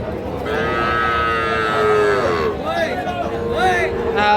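Cattle at a busy roadside cattle market low and moo loudly, a long drawn call followed by shorter ones, with people talking and chattering nearby.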